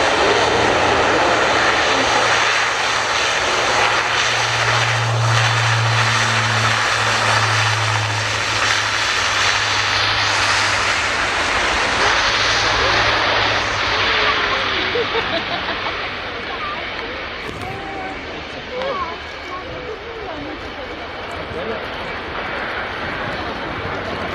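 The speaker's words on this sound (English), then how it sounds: "What we're going to see is the impressive tactical display of some of this imposing airplane force." Military transport aircraft roaring through a tactical display at the Royal International Air Tattoo airshow, a loud sustained propeller-engine drone with deep low rumble that stays heavy throughout before easing slightly toward the end, with wind and crowd wash.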